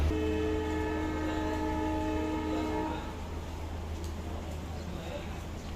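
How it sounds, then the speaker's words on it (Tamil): An ICF passenger train, the Nagaland Express, at Dibrugarh station: a long steady horn blast over a low diesel rumble, then continued engine drone as the horn stops, with a voice talking nearby. "அதுதான் நம்ம ட்ரெயின். எஸ், LHB கிடையாது, ICF Rex தான்."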